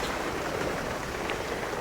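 Rain comes down steadily in a UK garden in June, a dense, close patter on surfaces that holds an even level with no one speaking.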